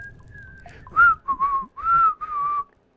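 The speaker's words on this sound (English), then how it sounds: "I can whistle too." A person whistles a short tune of several sustained, clear notes, fairly close and loud, with brief gaps between phrases over a low background rumble from the game INDIKA.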